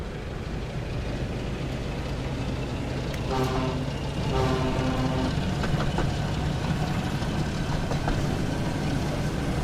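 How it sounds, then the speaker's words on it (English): A train whistle in a video game with Thomas-themed trains sounds twice in a row as steady tooting blasts, heard over continuous rumbling engine noise and no speech. "Oh, we've got a whistle, look. We can whistle."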